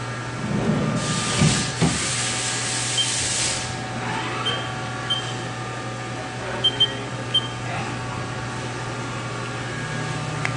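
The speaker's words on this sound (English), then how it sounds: "So here's how the machine will actually cut the part." A machine cutting a custom key with coolant running, heard as a steady hiss and mechanical hum with a constant low drone, a few faint clicks and taps, and no talking.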